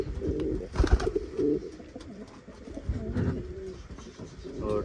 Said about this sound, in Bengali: এই কবুতরের এই ডাক গুলোই হচ্ছে মূলত শান্তি, যে ডাক শুনলেই মনে শান্তি লাগে